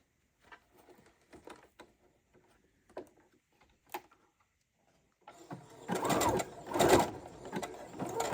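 A sewing machine stitches hemmed crochet trousers after a quiet stretch of scattered handling taps, breaking into a loud, continuous run of needle chatter that swells and dips near the end.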